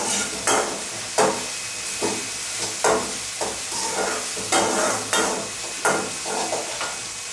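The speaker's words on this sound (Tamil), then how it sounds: "வெங்காயம் வணங்கினதுக்கப்புறம் தக்காளி போடுறாங்க" Tomatoes frying with softened onions in a pan for chana masala, a steady sizzle broken by rhythmic stirring scrapes roughly every half second, close and loud.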